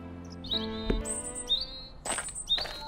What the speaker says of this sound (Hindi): एक प्यासी चिड़िया की आवाज सुनाई दी